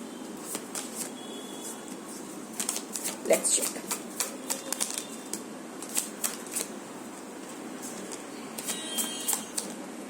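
Tarot cards are shuffled in repeated quick riffling bursts, close and crisp, with someone talking softly throughout.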